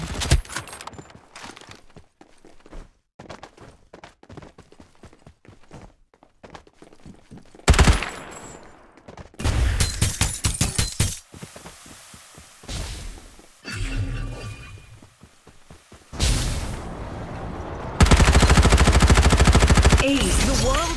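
Automatic weapon fire from a Farlight84 battle royale match, loud bursts and sustained rapid strings of shots between quieter stretches, with game effects mixed in.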